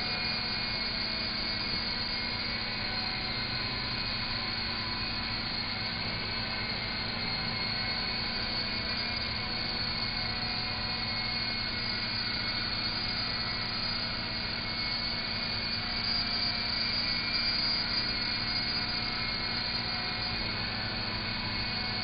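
A small remote control toy helicopter keeps flying indoors, giving a faint, steady motor whine and rotor hum that holds constant with no talking.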